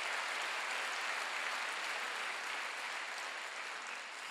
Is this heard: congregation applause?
yes